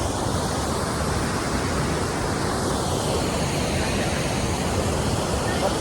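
Kanoor falls near Yellapur roars as a dense, steady wash of falling water, loud and unbroken throughout with no distinct events.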